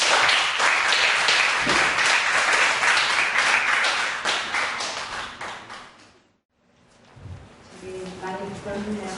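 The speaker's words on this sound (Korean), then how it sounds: "박수!" Dense, steady clapping from an audience at a church youth group retreat evening service, loud for about six seconds before fading out, followed by a voice speaking.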